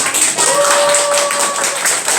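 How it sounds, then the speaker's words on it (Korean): A church congregation claps together for a baptism celebration, a dense run of many hands sounding at once, fairly loud and sustained through the whole moment. "박수 칠까요?"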